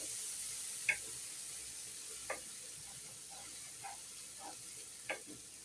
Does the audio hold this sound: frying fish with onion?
yes